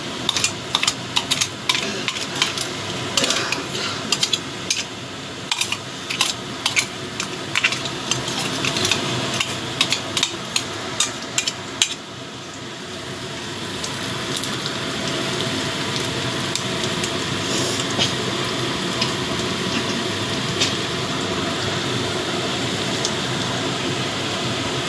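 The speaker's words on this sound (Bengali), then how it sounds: "এবার আমি কুমড়োর বুকের অংশটা, কাঁচা লঙ্কা আর বাদামের পেস্টটা দিয়ে দিচ্ছি।" Pumpkin pieces, green chilli and nut paste going into a pan of fried onions, with sharp spoon clatters and scrapes at first, then settling into a continuous even frying hiss.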